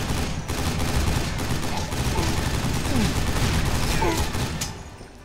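Assault rifle fire in the video game Loadout, loaded with regular slugs, crackling in dense rapid bursts that fill the whole stretch at steady loudness before easing off at the end.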